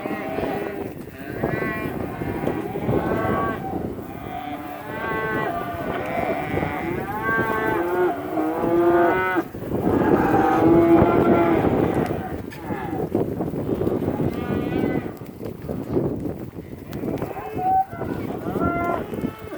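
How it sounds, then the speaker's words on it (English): Beef calves in pens moo repeatedly, several overlapping loud bawls close by across the whole stretch, with people talking between and under the calls. "Some of our beef calves."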